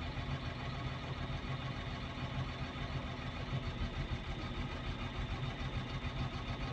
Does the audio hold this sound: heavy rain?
no